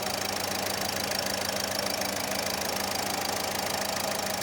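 A Renault Laguna 3 engine idles steadily, being run to bleed air from its cooling system, a continuous, even mechanical hum with a fine rapid ticking, loud and close, with no voices over it.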